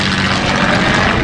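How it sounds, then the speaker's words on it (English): A P-51 Mustang propeller airplane flies past, its engine a loud, steady droning roar that fills the short stretch without a break. "we think the P-51 Mustang is starting to come in for landing."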